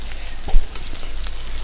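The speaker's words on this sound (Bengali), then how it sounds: "এখন আমি এটা ভেজে নেব বেশি ভাজবো না হালকা ভাজবো" Onion and garam masala fry lightly in oil while duck curry is being made, giving a brief, close, steady sizzle with a few soft stirring knocks and no speech.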